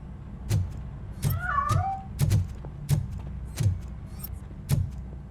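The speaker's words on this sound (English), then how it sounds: "That cat must be hiding inside." A cat in the game Robocop: Rogue City gives a short wavering meow amid a series of dull thumps and knocks, fairly quiet and close.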